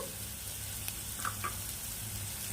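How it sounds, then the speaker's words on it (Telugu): Onions and garlic fry in a pan for gongura chutney, giving a soft, even sizzle close by with a couple of faint stirring clinks. "లైట్గా ఆనియన్ ఫ్రై అయ్యాయి."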